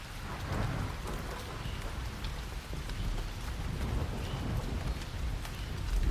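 Steady, dense rain falling and pattering on surfaces, a continuous close wash of drops that stays even throughout with no voices.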